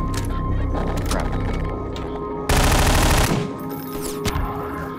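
Rapid automatic gunfire from a Garry's Mod game scene, with a dense, loud burst in the middle and scattered, softer shots before and after.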